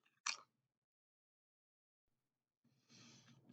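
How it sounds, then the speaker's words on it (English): A thick, vinegar-flavoured pickle potato crisp is bitten with a single sharp crunch, followed by silence and then soft breathy chewing noises up close. "Nice, a satisfying initial crunch. The potato itself has a nice crunch."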